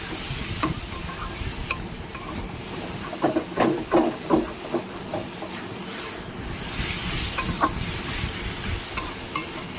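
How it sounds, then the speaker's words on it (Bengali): Pangas fish curry with tomatoes is stirred in a pan over a constant sizzle, with a cluster of scraping strokes in the middle and quieter frying before and after. "এটাকে ভালো করে নাড়তে হবে।"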